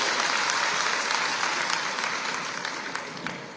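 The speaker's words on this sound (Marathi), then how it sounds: "आपण सगळ्यांनी एकदा जोरदार टाळ्या वाजवून त्यांचं मनापासून स्वागत करूया" An audience at a women's self-help group event applauds to welcome the chief minister, a dense, sustained clapping from many hands that fills the space and slowly tapers slightly toward the end.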